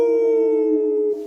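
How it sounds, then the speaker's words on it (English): A wolf howl sound effect plays on a fantasy football podcast, a loud, sustained tonal wail holding steady for just over a second before it cuts off. "Go ahead and howl it up, Jordan."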